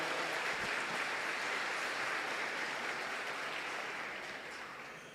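A church congregation applauds steadily during a Catholic sermon, a broad, even wash of clapping that fades slightly toward the end, with no voices over it.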